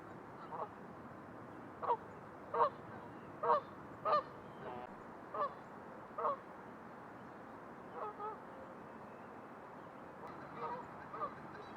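Geese honking on the water near a shoreline at early morning: a series of clear, moderately distant honks spaced a second or so apart over a steady quiet outdoor background.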